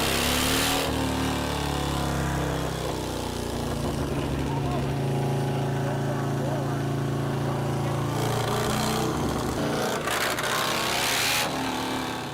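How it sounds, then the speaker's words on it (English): A motorcycle engine idles steadily while warming up, a continuous low drone with harmonic bands and occasional brief bursts of higher noise, fairly close and loud throughout. "Now we need to get the engine warm before we do a pull."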